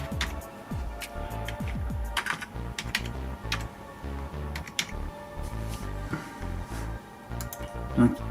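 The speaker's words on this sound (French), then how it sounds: "je vais aller dans l'onglet recherche rapide d'autotuner et je vais taper EDC16" Rapid typing on a computer keyboard, with close, crisp key clicks in uneven bursts over a steady stretch and a louder tap near the end, under faint background talk.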